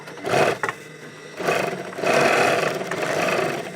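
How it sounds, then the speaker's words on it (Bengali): A sewing machine stitches the seam of a fabric bag, its motor whirring in a few close bursts with brief pauses between runs, loud and steady with no talk. "দেখো এই যে আমরা সেলাই করে দিচ্ছি"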